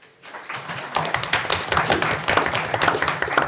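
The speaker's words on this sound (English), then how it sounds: "let's hear some applause for them" A small studio audience at a high school quiz tournament game claps briefly, a burst of close, distinct hand claps that rises quickly and holds for a few seconds.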